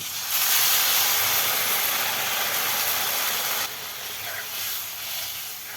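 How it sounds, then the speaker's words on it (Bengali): Water from boiling jackfruit seeds is poured into a hot curry, setting off a loud, close steamy hiss that holds steady, then drops to a softer bubbling sizzle near the end. "তারপরে এখানে কাঁঠালের বিচি সিদ্ধ করা জলগুলো আমি দিয়ে দেব।"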